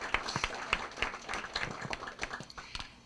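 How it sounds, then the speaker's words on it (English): Faint, brief applause from an audience at a local community summit, scattered claps over a few seconds at a distance. "Come on, you can give her a round of applause."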